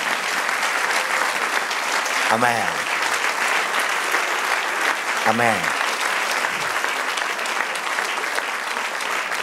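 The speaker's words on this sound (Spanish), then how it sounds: "Del otro aplauso al Señor." A church congregation claps steadily and loudly throughout a worship service, while a voice twice breaks in briefly over the dense applause.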